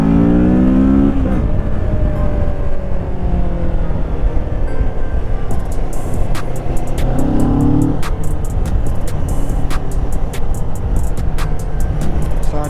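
A 2021 Kawasaki Ninja Z650 motorcycle engine revving and accelerating under a loud rush of wind, with rising pitch sweeps as it climbs through gears and a run of sharp ticks later on.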